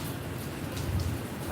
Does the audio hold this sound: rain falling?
yes